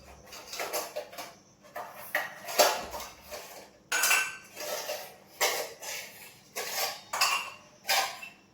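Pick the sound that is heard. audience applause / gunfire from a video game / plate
plate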